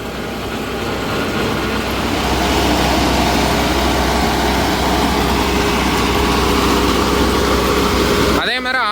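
Mahindra Novo 755 CRDI tractor engine running under PTO load, a loud steady diesel rumble that dips and then picks back up, continuous throughout with a brief disturbance at the end.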